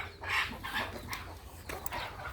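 Native chickens, hens with their chicks, clucking in short bursts at moderate distance, several soft calls spread across a quiet farmyard.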